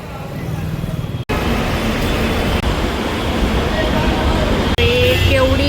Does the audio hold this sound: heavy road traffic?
yes